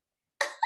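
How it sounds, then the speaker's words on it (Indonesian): A single short cough, demonstrated by an emcee as an example, sounds close after a brief silence, in two quick bursts. "Ini contoh misalnya contoh batuknya kayak gitu."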